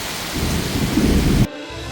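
Heavy rain pours down with a dense, loud hiss and a deep rumble of thunder beneath it, then drops abruptly to a quieter, softer patter.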